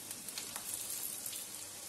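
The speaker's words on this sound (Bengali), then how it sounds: "গ্যাসটা কমিয়ে নিয়ে ভাজতে হবে, নাহলে ওপরটা পুড়ে যাবে" Chicken pakoras frying in oil over a low gas flame, giving a soft, steady sizzle with light crackling pops, faint and close, no talk.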